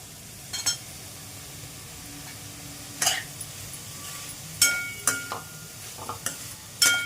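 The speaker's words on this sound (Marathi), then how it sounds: "परतून घेते। व त्यामध्ये एक बटाटा घालून घेते।" Potato being stirred into spiced oil in a pan, a faint low sizzle under scattered spoon clinks and scrapes against the metal, with several sharper knocks toward the end.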